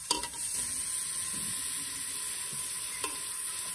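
Onion sizzles steadily in hot oil in a pan, a continuous close frying hiss broken by a few stirring scrapes and light clicks of a utensil.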